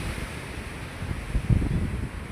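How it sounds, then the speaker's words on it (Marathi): Surf breaking on a beach at Gokarna around sunset, a steady wash of waves with strong wind buffeting the microphone and swells building toward the end, no voices. "पण किती छान बीच आहे एकदम."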